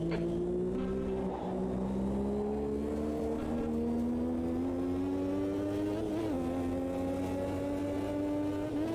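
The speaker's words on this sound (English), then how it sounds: "So Johansson has overtaken Berger" 1986 Formula One race cars at Monza, a continuous high-pitched engine whine rising slowly in pitch as a car holds speed, loud and close throughout with no talk.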